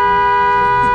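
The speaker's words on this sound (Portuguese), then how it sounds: "Isso é uma buzina? É uma buzina, pô." A vehicle horn sounds one loud, steady, continuous blast lasting about a second, close by and alone.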